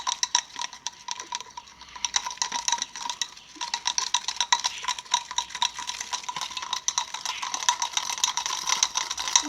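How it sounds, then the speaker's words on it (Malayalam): Shampoo and baking soda slime mixture being stirred in a bowl, giving a steady run of soft clicking, scraping utensil sounds close by, with no talking. "നമുക്ക് ഇളക്കാം."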